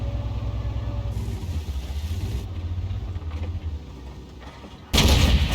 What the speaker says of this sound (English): And the Udes is firing, or at least was trying to fire it.